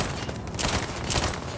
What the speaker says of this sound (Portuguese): Metendo tiro aqui, mano.